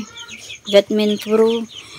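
A backyard chicken clucks close by in a few short bursts, with a brief pause between the first call and a pair of longer, throaty clucks.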